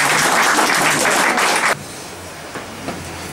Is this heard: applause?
yes